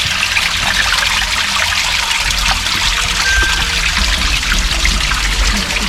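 Water trickles steadily down rock on a mountain hike in Arches National Park near Moab, a close, continuous wash of dribbling flow with no voices.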